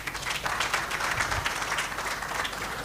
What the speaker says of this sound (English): Big round of applause to him